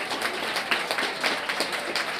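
Panel audience at a birth control event applauding, a steady dense patter of many hands clapping throughout, moderately loud and continuous with no pauses.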